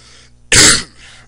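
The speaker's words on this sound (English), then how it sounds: "Sorry for the coughing" A single throat-clearing cough from a person with allergies, one short loud burst lasting about a third of a second, close to the mic, with quiet room tone before and after.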